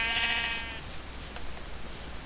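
Sheep bleating in Minecraft, one clear wavering bleat at the start followed by quieter game ambience and faint soft steps.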